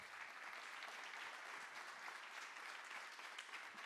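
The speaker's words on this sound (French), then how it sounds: "Vous pouvez aller l'applaudir" An audience applauds after the presentation of a student housing project dealing with summer overheating, a steady uniform patter of many hands lasting about four seconds, quiet and distant, with no speech over it.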